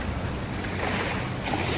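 Sea waves wash steadily onto a beach at Athens at sunset, a continuous rushing surf with wind noise, loud and close, with no voices.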